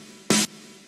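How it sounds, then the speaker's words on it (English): A single snare drum sample hit from a pop song sample pack, played alone in Cubasis 3: one short, bright, noisy burst lasting about a fifth of a second over a faint background hum. "and then the snare."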